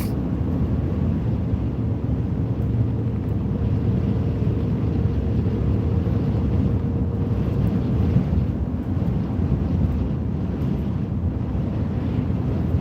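Strong wind gusts buffeting an outdoor microphone in flat Ohio country, a continuous low rumbling roar that swells and churns throughout with no voices.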